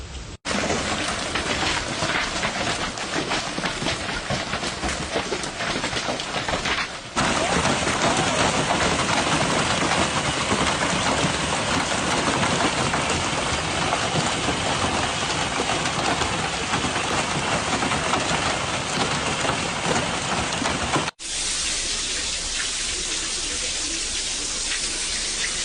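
Hail falling in a storm, a dense, loud, steady roar of pellets striking surfaces, continuous throughout with an abrupt cut near the end.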